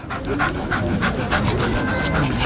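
A dog pants steadily in rapid rhythmic breaths, close and continuous, with people talking in Turkish nearby during a street interview in Zonguldak.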